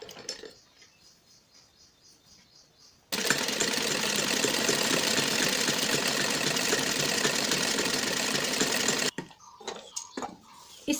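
A sewing machine runs in one steady, loud burst of stitching along a salwar seam, about six seconds long, between quieter handling noises before and after.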